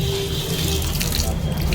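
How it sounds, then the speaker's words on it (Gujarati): Tap water runs steadily into a sink while hands are washed, a close, continuous hiss and splash that lasts the whole short moment. "હાથ ધોવાનો છે આમાં."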